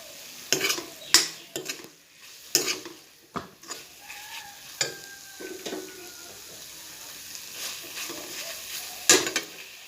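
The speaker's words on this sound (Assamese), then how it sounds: "এতিয়া মই ঢাকনিটো উঠাই আকৌ এবাৰ লৰাই দিছোঁ।" Greens fry gently in a pan after the lid is lifted, a soft steady sizzle under a series of sharp spatula scrapes and clinks against the pan, close and without talk.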